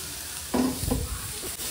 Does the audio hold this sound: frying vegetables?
yes